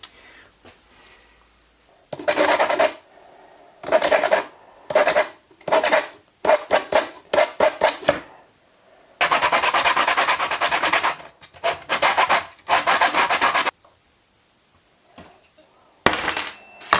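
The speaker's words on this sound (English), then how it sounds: "I'm going to use my sanding block and hammer and some chisels and stuff like that or whatever" A sanding block scrubs over soft lead metal badges in bursts of rasping strokes, some quick and choppy, others long and sustained, loud and close, separated by short silent pauses.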